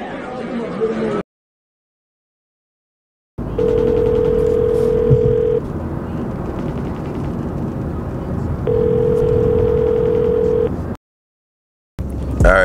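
An outgoing phone call that goes unanswered: two long ringback tones in a steady repeating pattern over a noisy room background, with a stretch of near-silence before and after.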